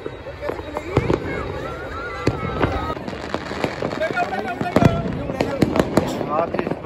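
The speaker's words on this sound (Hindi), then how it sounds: "देखिए मकर संक्रांति के मौके पे कैसी आतिशबाजी हो रही है।" Fireworks for Makar Sankranti in Jaipur pop and crackle in rapid scattered bursts, some near and sharp, others distant, with whistling rockets rising and voices chattering in the background.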